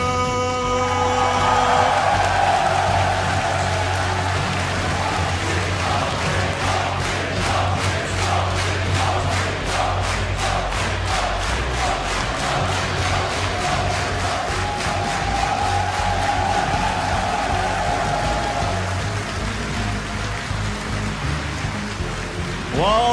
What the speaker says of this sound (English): Well, this crowd is definitely ready